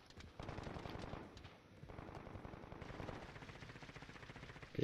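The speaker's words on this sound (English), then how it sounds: "he's shooting somebody on the roof, I bet" Automatic gunfire from a video game match, dense rapid bursts at steady volume with a brief lull near the middle, continuing without talk.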